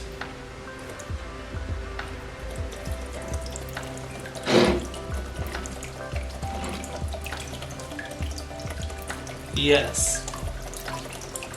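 A homemade electric water pump built from recycled materials throws water with an intermittent splashing and trickling, under a voice, with two louder gushes partway through.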